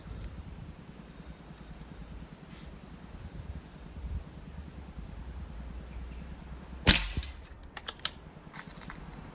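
One sharp airgun shot fires a pellet at a paper Dragon target in a quiet room, followed by a few faint clicks and small handling noises.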